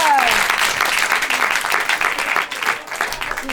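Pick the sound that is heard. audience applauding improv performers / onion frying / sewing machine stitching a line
audience applauding improv performers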